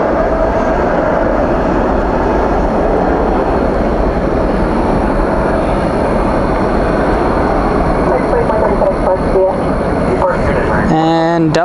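A Boeing 777 bound for Dublin roars on takeoff at night at DFW airport, a loud continuous broad jet rumble that holds steady throughout, heard from nearby.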